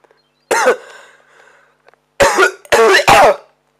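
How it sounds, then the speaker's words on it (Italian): Coughing from a character in the video game Mario & Luigi: Bowser's Inside Story, one rough cough followed by a pause and then three quick loud coughs, clear and close. "Colpo di tosse."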